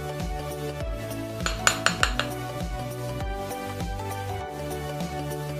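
A spoon stirs nutmeg, baking soda and baking powder together in a bowl for cookies, giving a steady scraping and clinking against the sides with a few sharper taps mid-way, close and fairly loud.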